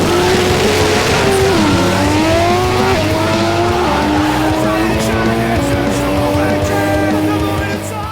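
Two race cars, a piston-engined Toyota and a rotary Mazda RX-7, running flat out at a night compact-car drag event, their engines roaring loud and close with rising gear-by-gear pitch sweeps and faint tire noise.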